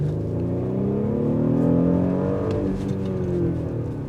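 A 2021 Audi SQ5 pulling hard under full throttle, its engine and exhaust rising steadily in pitch as it accelerates, a close, continuous growl with no talking.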